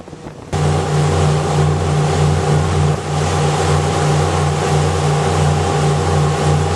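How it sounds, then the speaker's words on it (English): A large power boat, about 45 feet, approaches on the St. Clair River; its powerful engine drones steadily and loud after a brief quieter start, with a deep, constant hum and broad rushing noise of water and wind. "Got a pretty big power boat coming up behind us."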